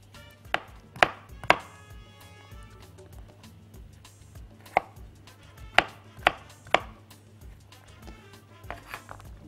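Knife chopping vegetables on a cutting board for a beef and vegetable soup, about a dozen sharp, close knocks arriving in uneven clusters with short pauses between them, loud against a quiet kitchen background.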